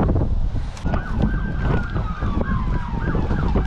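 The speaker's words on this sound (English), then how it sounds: "It's windy out here." Steady wind rushing and buffeting the microphone throughout on a river in Mississippi, with a wavering siren sounding over it.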